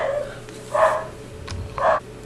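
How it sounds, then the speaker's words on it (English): Dogs barking close by, two or three short, loud woofs spaced about a second apart over a low background hum. "The dogs will literally bark at everything and anything."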